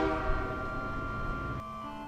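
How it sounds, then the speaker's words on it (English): Passing train on a television, with a steady, loud horn blast over the rumble of rolling railcars. The horn holds its tones and then shifts pitch partway through. "what are you guys watching? Trains."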